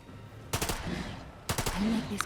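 Gunfire in the turn-based tactical game The Lamplighters League: two separate bursts of sharp shots, each a quick cluster of reports about a second apart, with a light game tone after the second burst.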